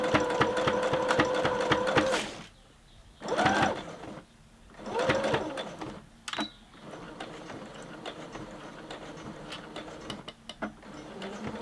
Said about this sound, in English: you're just going to go sew that little pocket up.